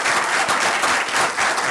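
Audience applause greeting a speaker as he comes onstage, a dense, steady wash of clapping from a full room, loud and close, with no talk.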